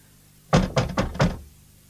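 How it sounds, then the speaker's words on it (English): Four firm knocks rap on a wooden door in a radio play, close and loud, in a quick uneven rhythm, with quiet before and after. "Knock again."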